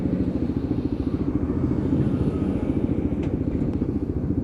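A Lexmoto LXR Euro 5 motorcycle rides along a dual carriageway, its engine throbbing steadily and loudly up close over a constant rush of wind.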